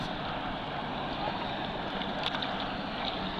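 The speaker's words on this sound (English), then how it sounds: "There's the trolling motor." Electric trolling motor running at low power on a solar-powered canoe out on open water, a steady hum blended with water wash and light wind that continues evenly throughout.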